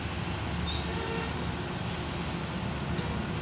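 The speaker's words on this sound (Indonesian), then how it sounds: "lokomotif perlahan ya karena memasuki emplasemen stasiun" A shunting locomotive rolls slowly into a station yard at Cicalengka with a steady rumble of wheels on rail and faint high squeals, continuous and close.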